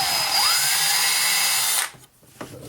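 A power drill whines steadily as it bores out the center of an arrow nock for an Easton Axis arrow, loud and close for almost two seconds before cutting off, leaving quiet handling sounds.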